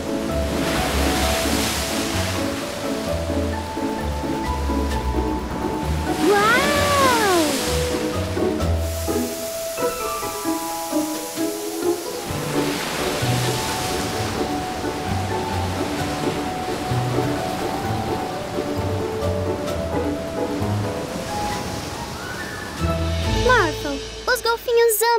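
Animated cartoon ocean waves surge and wash steadily for the whole stretch, mixed under background music and character voices speaking Portuguese.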